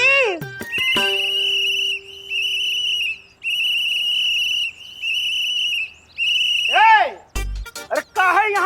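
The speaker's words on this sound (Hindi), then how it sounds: "अरे काहे यहाँ कान में आके जोर जोर से सीटी मार रहे हो" A person whistles loudly and piercingly in a scene from the children's TV series Baalveer Returns, holding several long, steady notes separated by short gaps, then breaking into quick sweeping tones as a voice cuts in near the end.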